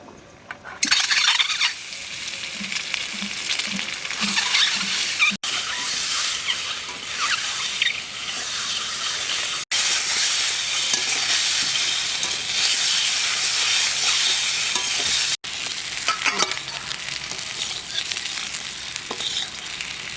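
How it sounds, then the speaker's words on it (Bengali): Eggs fry in hot mustard oil, giving a steady, close crackling sizzle that runs almost the whole time with a few brief breaks and light scraping. "ডিম ভাজা হয়ে গেছে"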